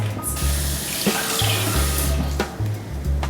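A sink tap runs with a steady, full rush of water close by, broken by a low repeating hum and a few knocks of things moving in the basin.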